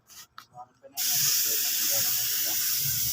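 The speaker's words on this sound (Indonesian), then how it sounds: "Kita semproti saja." A spray can hisses in one steady continuous blast while repainting a dull motorbike part, following a few short sounds at the start.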